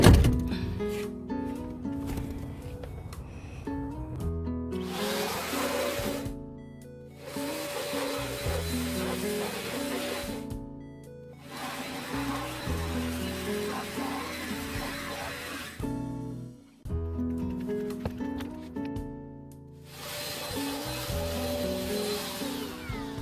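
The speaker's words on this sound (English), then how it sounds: "Let's vacuum the interior." A vacuum cleaner works over a car interior in loud droning stretches with a rough rubbing texture, broken by short pauses where the suction drops away and thuds and handling noises come through.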